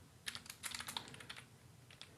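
Code is typed on a computer keyboard: a quick burst of close, crisp key clicks in an irregular rhythm, then a short pause and a couple more taps, with no voice.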